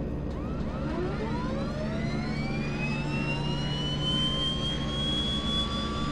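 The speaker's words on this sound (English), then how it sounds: "Starting engine number 1." A Twin Otter turboprop engine spools up during start in a flight simulator, with a steady low drone beneath a whine that rises and sweeps upward in pitch, heard alone and continuous.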